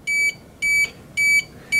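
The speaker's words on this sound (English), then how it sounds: "it's going to beep at you and let you know what's going on" An FrSky transmitter module fitted to a Turnigy 9x radio gives a no-antenna warning: four loud, evenly spaced electronic beeps, each about a quarter second long, close and alone.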